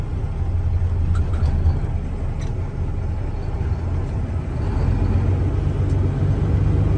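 A 1995 Mack CH613 truck engine runs at a steady low idle, its deep constant rumble close and unbroken throughout with no talk.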